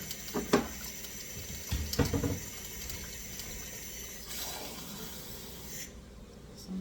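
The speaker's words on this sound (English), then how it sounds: "they said add cold water to bring it up to 3 cups" Cold water running from a kitchen tap into a measuring cup while making wild rice soup, a steady hiss of flowing water with a few clinks and thumps early on, fairly close and moderately quiet.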